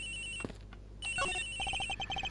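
A telephone rings in a courtroom-investigation video game, with an electronic trilling ring, a brief pause, then repeated rapid tone bursts, clear and up close.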